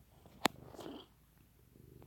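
Pet cat purring, faint and close, with a soft low rumble after a brief sharp click, in a quiet room.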